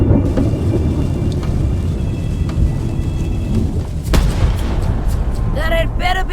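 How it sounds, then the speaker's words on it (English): Deep booming rumbles from a ship's cannon in the pirate adventure game Return to Monkey Island roll on continuously, with a sharp crack partway through and brief bright tones near the end. "Ready for cannon firing."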